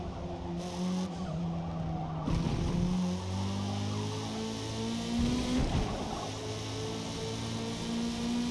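A Nissan GTR R32 Skyline widebody screams around Mid Ohio in a multiplayer racing game, its engine note rising and falling through gear changes while tires squeal in the corners, loud and steady with no talking.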